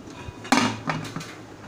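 A metal pressure cooker lid is fitted onto the cooker while making plain rice, giving a few close clanks and knocks, one louder hit followed by two softer ones, with no talking.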